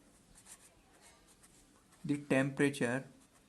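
Chalk or marker scratches steadily across a classroom board during a Class 7 maths lesson, faint continuous rubbing strokes, then a teacher's voice speaks loudly over it.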